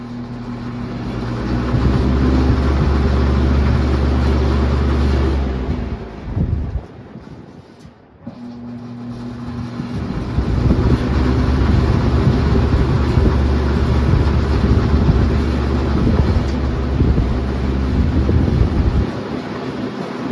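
A vintage Lasko Ultra Delux box fan on high roars with a steady loud whoosh and low hum, drops out briefly near the middle, then spins back up to a full constant rush.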